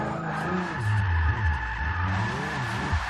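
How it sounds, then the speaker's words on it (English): A turbocharged VR6 MK3 Volkswagen Golf with front-wheel drive drifting: a loud, steady engine drone close by, with tires skidding and squealing as the revs rise and dip, and no talking. "what do you guys say we start doing a little bit of drifting?"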